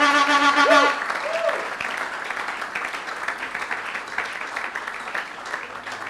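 A congregation applauding during a Sunday church service, sustained clapping filling the room after a brief voice at the start, steady and moderately loud before easing slightly.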